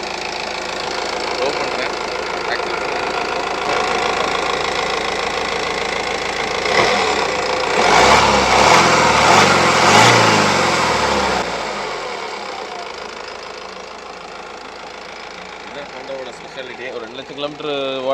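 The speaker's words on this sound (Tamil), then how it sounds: "டீசல் இன்ஜின்னால கொஞ்சம் நாய்ஸ் இருக்கும்" A Honda diesel car engine idling with a steady low mechanical chug, rising briefly in the middle before settling back, close and fairly loud.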